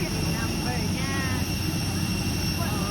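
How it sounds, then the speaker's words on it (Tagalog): An airplane on a flight to Kalibo gives a loud, continuous engine drone with a steady tonal hum that never fades, while voices talk over it. "Plane number RPC 4268."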